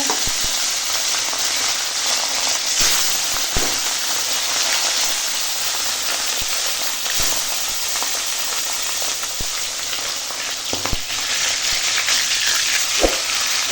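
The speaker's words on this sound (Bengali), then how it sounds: "দেখো তেল গরম হয়ে গেছে, এবার মাছ ভেজে নেব।" Katla fish pieces, rubbed with salt and turmeric, fry in hot oil with a continuous loud sizzle and scattered sharp pops and spatters over several seconds, heard close up without speech.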